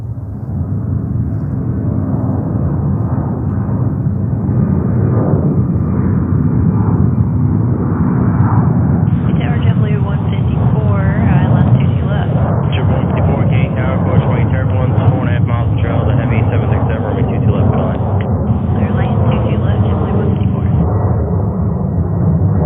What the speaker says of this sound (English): Delta 767 climbing out, heading over to LAX.